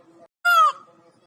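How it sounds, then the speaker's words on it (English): A single loud, harsh, nasal peacock call rings out for a moment with a strained upward tone, close and clear, set between quieter background sounds. "Peacock."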